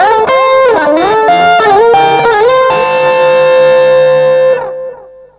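Electric guitar run through a multi-effects pedal with delay engaged, chained with a Tube Screamer Mini and Super Overdrive, playing loud sustained distorted notes and bends that ring out, then fade at the end with echoing tails.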